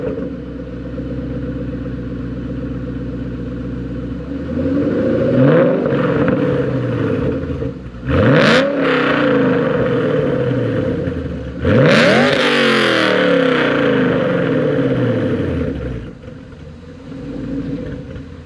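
A 2012 Ford Shelby GT500 with aftermarket exhaust starts up and settles into a loud idle, then gets blipped in two sharp, rising revs with a short pause between them, close by and with no talk.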